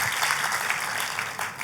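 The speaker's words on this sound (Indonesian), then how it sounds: "Tepuk tangannya sekali lagi yang paling meriah buat Tuhan kita" A church congregation claps enthusiastically in praise, a dense, steady wash of applause that fills the whole short stretch with no one speaking over it.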